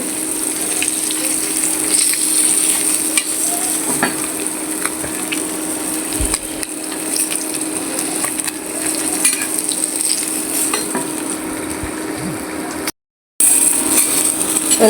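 Koi fish frying in hot oil gives a steady, dense sizzle and crackle that runs unbroken for the whole stretch, apart from one brief silent gap near the end, with no voices.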